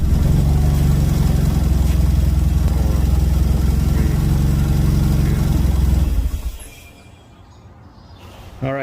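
A Mazda RX-7 FD rotary engine idles steadily and loudly with a low, even drone for about six seconds, then shuts off and leaves near silence before a faint sound returns at the end.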